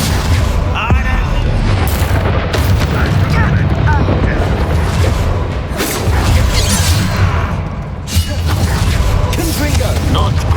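Loud, dense fiery spell blasts in Hogwarts Legacy combat, booming explosions overlapping in a continuous battle din, with a voice shouting spell names over them.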